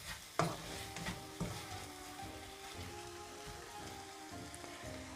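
A spoon scrapes and stirs okra curry in a pan, giving soft irregular clinks and scrapes over a faint sizzle, quiet and close with no talk.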